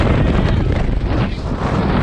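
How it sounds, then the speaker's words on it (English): Strong wind roars across a mountain summit on Anza Peak in Colorado, a loud continuous buffeting gust battering the microphone with no voices. "So windy, oh my god."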